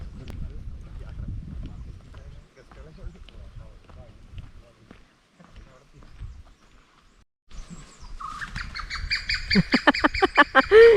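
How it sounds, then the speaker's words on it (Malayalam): Birds call in forest at Silent Valley National Park in Kerala, with bright, harmonic cries that grow loud and rapid over the final few seconds after a stretch of people talking. "പക്ഷികൾ"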